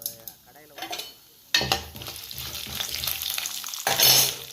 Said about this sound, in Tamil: நல்ல எண்ணெயில் நல்லா பொரியுது பாருங்களேன்.